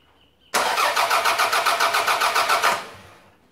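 A car engine cranks during a starter motor test, giving a fast, even chugging of about a dozen loud beats, then catching and dropping away at the end.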